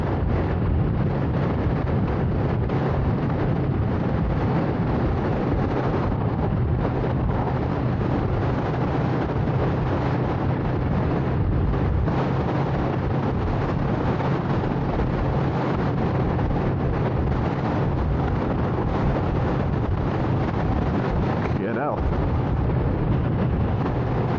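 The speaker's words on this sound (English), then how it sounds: "it's windy up here" Strong wind on a hilltop buffets the microphone continuously, a dense roaring rumble with gusty swells and no pauses throughout.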